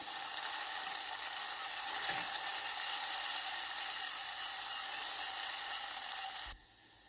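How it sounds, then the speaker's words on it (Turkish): A steady, loud sizzle of tomato paste frying in a hot pan continues for several seconds, then drops off abruptly near the end. "Salçamızı kavurmaya devam ediyoruz."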